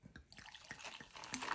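Jarritos Mexican soda poured into a glass, a brief close splash that builds into a bright fizzing, bubbling gush as the glass fills.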